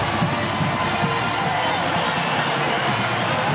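Stadium crowd at a Pittsburgh vs. Clemson college football game in the 2020 ACC season, a dense continuous roar of murmuring voices with scattered shouts and cheers throughout, steady and loud.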